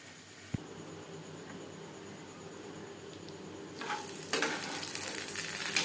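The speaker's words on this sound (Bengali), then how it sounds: "আমি শ্যালো ফ্রাই করছি আপনারা চাইলে ডিপ ফ্রাইও করতে পারেন" Fish pieces shallow frying in hot oil over a medium flame give a soft, steady sizzle with a small tap near the start. The crackle grows louder and brighter in the last two seconds, with no voices.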